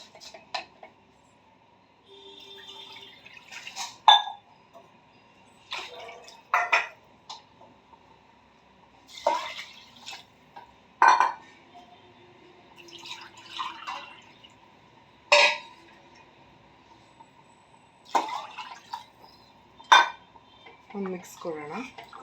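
Water goes onto washed rice in a pressure cooker while eggplant rice is made, heard as a run of clinks, drips and pot knocks in irregular bursts with light splashing between them.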